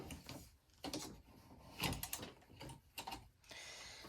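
Embroidery hoop being fitted onto an embroidery machine while sewing a Kimberbell December pillow panel: a run of close, quiet mechanical clicks, clacks and latching snaps, with a louder knock near the middle and light rustling toward the end.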